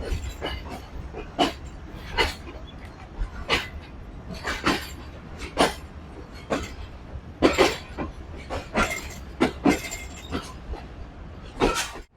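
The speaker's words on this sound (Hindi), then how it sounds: "नीचे से कराची एक्सप्रेस, ऊपर से ऑरेंज लाइन।" The Karachi Express on Pakistan Railway passes below an elevated line, giving repeated rhythmic clickety-clack wheel knocks over a steady rumbling rail noise. The sound is fairly loud and has no talking.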